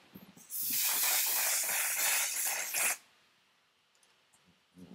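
A makeup primer spray mists from its nozzle in one loud, airy hiss lasting about two seconds, close to the face, then stops abruptly, leaving near silence.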